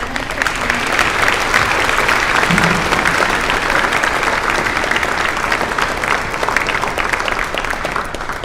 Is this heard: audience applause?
yes